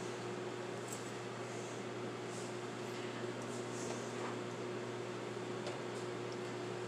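A steady, even mechanical hum with a low electrical drone runs throughout from a Galanz microwave oven running nearby without pause.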